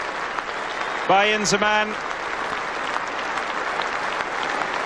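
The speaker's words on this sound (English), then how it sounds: "he walks off to a standing ovation here at Lords Cricket Ground" Sustained standing ovation from a cricket crowd at Lord's Cricket Ground as a batsman walks off, continuous applause filling the whole stretch, with a commentator speaking briefly over it.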